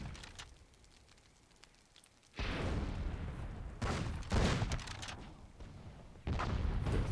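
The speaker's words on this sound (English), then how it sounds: "There's rockets going everywhere" Rockets and cannons firing in the fantasy strategy game Myth II Soulblighter, quiet for two seconds and then a dense, loud barrage of overlapping blasts and crackling bursts in several surges.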